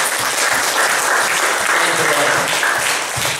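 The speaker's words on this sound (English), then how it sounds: "Can we give a clap offering to our God?" Church audience giving a clap offering to God, continuous dense applause at an even level, close and full, with faint voices mixed in.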